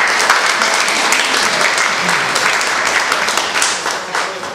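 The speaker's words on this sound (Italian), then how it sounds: "Applauso a Donato, perché Donato è il premio vassallo del 2019" An audience applauds for a mayor at a civic gathering, loud, dense clapping from a large crowd that stays full and steady and tapers a little at the end.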